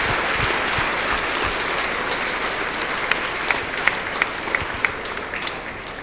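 Applause from a large audience at a talk swells as a dense, steady roar of many hands, with a few louder individual claps standing out near the end.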